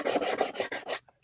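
Rough grit sandpaper rasps across the seams of a homemade Red Hood cosplay mask in five quick, even back-and-forth strokes, close and dry, then stops.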